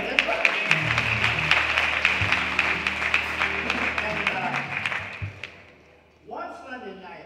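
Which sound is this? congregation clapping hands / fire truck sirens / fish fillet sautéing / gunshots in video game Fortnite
congregation clapping hands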